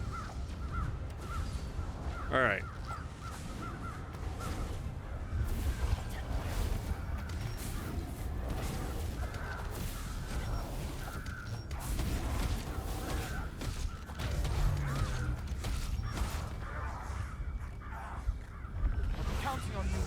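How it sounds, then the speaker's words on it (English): Crows caw in the Throne and Liberty video game, one clear call standing out early amid a dense, continuous game soundscape of music and effects, with a voice speaking briefly. "I really want to make all of those crows just go away."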